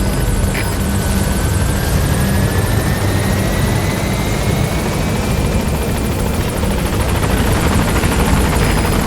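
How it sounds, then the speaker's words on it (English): Helicopter arriving at a landing zone in Metal Gear Solid 5, a loud continuous rotor and engine roar holding steady throughout. "Go ahead and call the chopper from your hydro."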